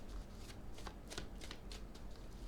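A tarot deck is cut and handled, giving a steady papery shuffling and flicking of cards with soft rhythmic bursts, close and faint, without speech over it.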